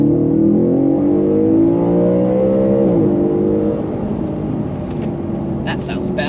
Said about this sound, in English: Let's take a little test drive and see what these new induction kits sound like.